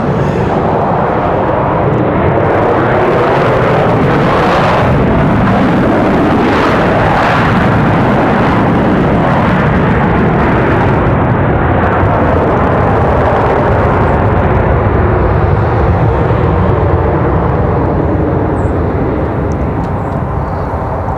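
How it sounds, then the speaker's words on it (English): An Airbus A319 airliner lands on the runway at Raleigh-Durham International Airport, a loud, continuous roar of jet engines and rushing air that holds steady throughout, heard from nearby, with no voices. "So, nice touchdown for the A319."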